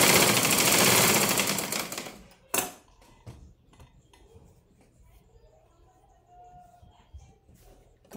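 A sewing machine stitching a blouse runs in a loud, fast burst for about two seconds, then stops, followed by scattered quiet clicks, a faint voice and handling noises.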